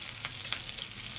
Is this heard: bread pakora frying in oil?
yes